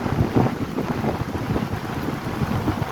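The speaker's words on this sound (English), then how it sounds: "So the breeze is going to push me back. I'm coming back this way. Have a significant headwind." Wind buffets the microphone at a beach while bicycling against a strong headwind on Fort Myers Beach, Florida, making a close, rough, gusty rumble that fills the whole stretch with no speech.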